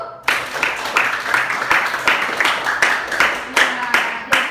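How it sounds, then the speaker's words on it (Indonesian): Students in a classroom break into applause, a steady patter of many hands clapping close by, with the sharp individual claps pulsing through for several seconds. "Beri aplaus dulu."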